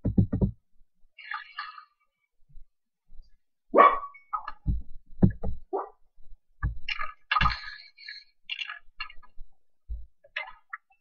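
A dog barking in the Minecraft video game, heard as a series of short, separate synthetic barks and yips spread across the clip with quiet gaps between them, close and fairly clear.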